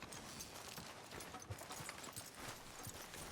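Horse hooves clip-clopping in Red Dead Redemption 2 as a rider walks the horse along a town street, a steady even rhythm of soft, close hoof strikes over faint background ambience.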